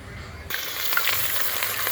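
Garlic and pepper hit hot oil with a sudden loud sizzle that starts midway and keeps crackling steadily close by, with no talk, while cooking Jamaican brown stew fish.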